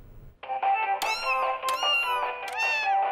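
A cartoon cat meows three times in a row, each call a loud, close, drawn-out cry rising and falling in pitch, with no voices over it.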